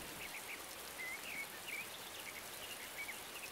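Rain in a video game, a steady, faint hiss of falling rain with light scattered chirps above it, continuous and distant, with no voices.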